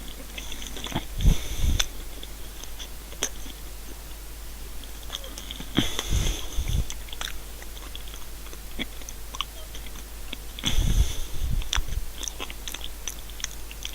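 Someone snaps and chews Jacob's cream crackers topped with cheddar cheese, giving brief brittle cracks followed by bursts of close, quiet crunching and mastication over a steady low background hum.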